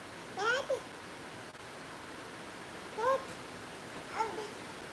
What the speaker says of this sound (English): The cat was loud, I know.